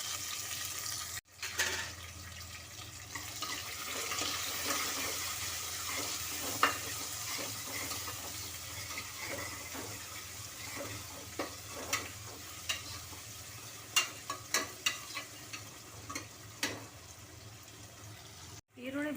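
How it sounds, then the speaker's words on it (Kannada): Onions and cashews frying in a pan make a steady low sizzle with scrapes of stirring and a few sharp clinks toward the end, with no voices over it. "ಈರುಳ್ಳಿ ಬ್ರೌನ್ ಕಲರ್ ಬರೋವರೆಗೂ ಸ್ವಲ್ಪ ಫ್ರೈ ಮಾಡ್ಕೊಳ್ಳೋಣ."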